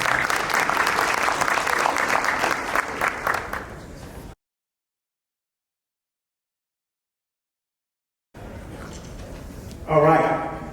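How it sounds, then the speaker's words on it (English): An audience at a startup pitch competition applauds the finalists with dense, steady clapping for about four seconds before it cuts to silence; faint crowd noise returns near the end. "just round of applause for all the finalists"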